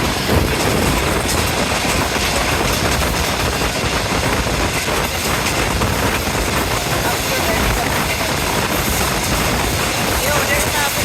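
Green Line passenger train passing Kahara railway station at speed, a dense continuous rumble and rattle of wheels and carriages that stays loud and steady throughout, heard from on board with faint voices.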